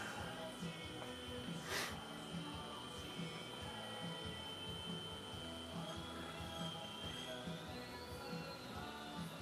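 An N scale model train runs on high-frequency pulse width modulation, giving a faint, steady motor whine with a thin high tone that drifts slightly in pitch, over soft background hum and low rumble.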